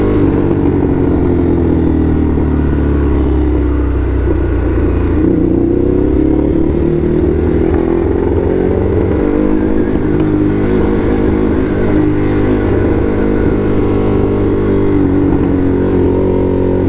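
A customized motorcycle engine runs close by, with a steady low rumble broken by repeated revs that rise and fall over the whole stretch, loud and alone with no talk.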